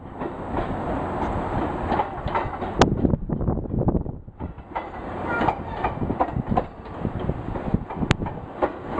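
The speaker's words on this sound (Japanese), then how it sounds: "電車。" A train passes close by outdoors, giving a loud rumble with clickety-clack wheel rhythm that dips briefly and then swells again, along with some wind noise on the microphone.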